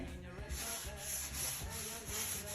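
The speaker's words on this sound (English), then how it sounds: "So I like to use my bathroom scrub mitt, rub a little bit of cleaning paste on there." A bathroom scrub mitt with cleaning paste is rubbed over a shower surface, making close, steady back-and-forth scrubbing strokes with a gritty, rasping texture.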